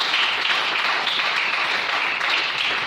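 A church congregation applauds together to acclaim the Lord, a dense, loud, continuous wash of clapping from many hands that holds steady for a few seconds.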